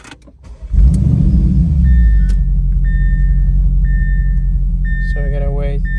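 An Audi S4/S5/S6/S7/RS7 engine cranks and fires, then idles with a steady low rumble while the fuel pump is unplugged, joined by intermittent electric whines and chimes toward the end.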